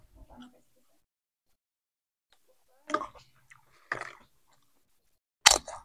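Someone bites into fried Belitung taro chips, giving three sharp, crisp crunches a second or so apart. Each is close and dry in a quiet room, with a faint murmur at the start.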